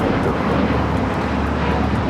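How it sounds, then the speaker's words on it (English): A United Airlines A321neo airliner taking off at Los Angeles International Airport, a loud, steady broadband engine roar with heavy low rumble and no talking. "United Airlines 1729 taking off to Denver, Colorado on the A321neo."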